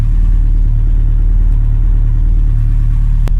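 A 1986 Ford Capri with a carburettor idles close by, a loud, even, low throb that holds steady throughout after a struggling start.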